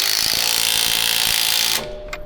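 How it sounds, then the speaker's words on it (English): An impact wrench tightens a bolt on a car's front coilover suspension, a loud continuous rattling whir for nearly two seconds that stops abruptly, followed by a faint click. "Big Brandon's up there with the impact. But all right, impact that thing, and I'm holding the backside"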